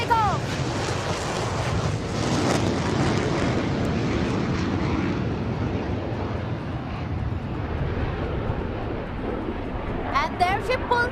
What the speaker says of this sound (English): And here she goes, Tejas showing off its takeoff